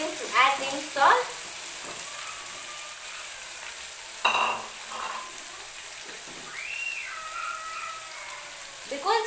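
Tomatoes hit a hot pan for wet fry fish and set off a steady, fairly quiet sizzle, with a few louder bursts of stirring and clatter scattered through it.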